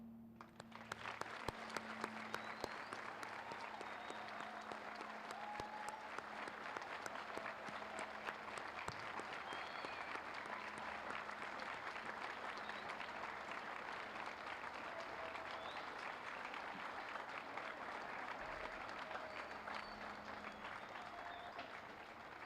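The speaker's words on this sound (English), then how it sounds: "let's say thank you and praising those who are present with a tremendous round of applause" A large audience at a Veterans Day ceremony breaks into sustained applause, a dense wash of clapping that holds steady for over twenty seconds, with a few sharp individual claps near the start and no talking over it.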